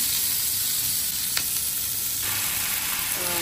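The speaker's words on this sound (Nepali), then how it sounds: "मैले चाहिँ हेर्नुहोस् यसरी गरेर भुट्दैछु" Noodles stir-fried in a hot pan for a Chinese chow ho fan dish, giving a steady loud sizzle throughout with a brief scrape near the middle, no voices.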